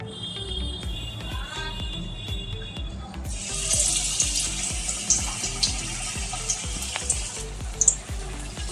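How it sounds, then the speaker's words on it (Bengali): Pieces fry slowly in oil over a lowered flame, a steady hissing sizzle that swells partway through, with a few small clinks and pops on top. "এগুলো ভাজতে হবে একটু সময় নিয়ে"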